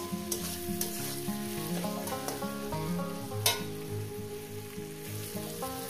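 Water spinach frying with prawns in a hot pan gives a steady, close sizzle that runs the whole time, with a few brief spatters. Tuneful background music plays underneath.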